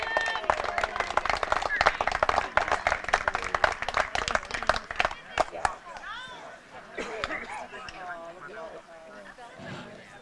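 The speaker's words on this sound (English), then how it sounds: "Nice hand from the Southeast crowd." A crowd at a Southeast of Saline versus Sacred Heart high school baseball game claps and applauds in a burst of dense, scattered hand claps that fade out midway, followed by commentators talking.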